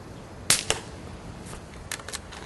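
A suppressed M44US(c) rifle fitted with a Tac-65 suppressor fires outdoors: one sharp, fairly quiet crack, a second pop just after, then a few fainter cracks and clicks over the next couple of seconds.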